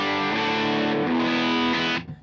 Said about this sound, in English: I'm using an AC30 preset on my amplifier